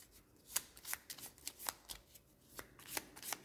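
A deck of Gloomhaven board game cards is shuffled by hand, giving repeated crisp riffling snaps at a steady pace, close and quiet with no talking.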